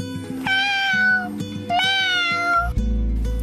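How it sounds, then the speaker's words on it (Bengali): A cat meows twice in drawn-out, wavering cries, close and clear over a soft background hum, then a low rumble follows near the end. "এটা তো বেড়াল।"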